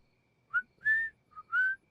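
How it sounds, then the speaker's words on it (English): A cartoon character whistles a short tune, four clear pitched notes in quick succession, close and alone against silence. "whistling is an excellent way to play music without using electricity"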